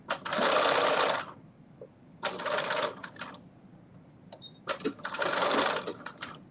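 Sewing machine stitching a knit dress in three distinct bursts of rapid stitching, each about a second long, close and fairly loud, with quiet gaps and light clicks between them.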